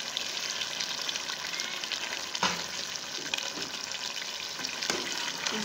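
A dense, steady frying hiss from potatoes and badiyan cooking in a pan after yogurt is added, with a few faint scrapes of stirring underneath and no speech.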